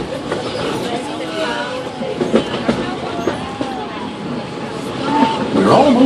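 Magic Kingdom train ride circling the park, a steady rumble and faint clatter of rail cars rolling along under a guide's spoken announcements, swelling louder near the end.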